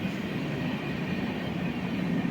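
A passenger train, the Island Express in Tamil Nadu near Nagercoil, rolls along the tracks with a loud, steady rumble and roar heard close up from on board, with no talk.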